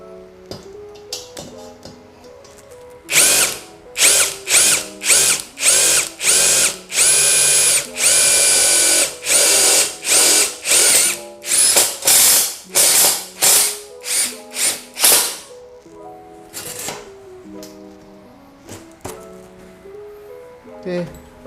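A Nagawa NID213K 2.0 impact driver, set to speed 3, drives into a few centimetres of steel. It gives a long run of loud, closely repeated hammering bursts, then sparser and quieter bursts, with a faint tonal background.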